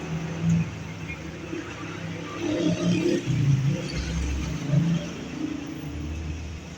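Buses and traffic rumble along Avenida Lecuna in Caracas during the morning commute, with low engine drones and passing vehicles at moderate distance, and a person talking over the street noise.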